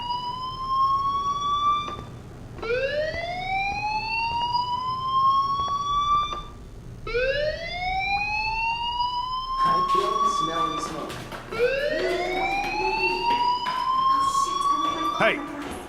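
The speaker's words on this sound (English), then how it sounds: "Hey, do you hear that fire alarm?" A wailing fire alarm in the video game Life is Strange rings in repeated rising sweeps, loud and continuous, while a person speaks over it.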